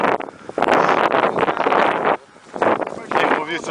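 Strong gusty wind buffets the microphone at a model airplane flying field in loud bursts broken by a brief lull, with voices audible underneath.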